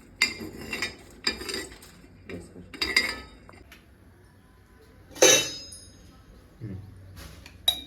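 Roasted moth beans are moved from the pan onto a plate, heard as a few separate bursts of metal spoon scraping and clinking against cookware, with quiet gaps between and a louder clatter near the end.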